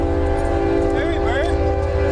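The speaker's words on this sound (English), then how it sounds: "That's a work train." A Norfolk Southern work train rumbles past steadily at close range in Gastonia, North Carolina, with a strong sustained horn-like tone riding over the rail noise for the whole stretch.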